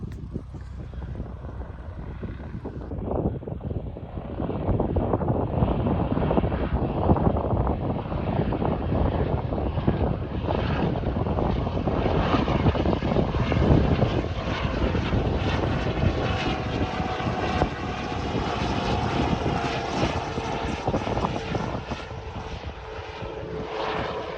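A loud helicopter engine drones overhead, rising and holding steady for a long stretch before easing slightly.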